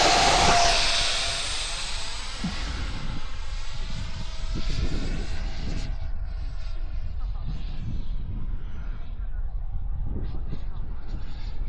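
H.King L-39 64mm 4S radio-controlled model jet with an electric ducted fan, spooling up with a loud rising whine that settles into a steady roar at close range.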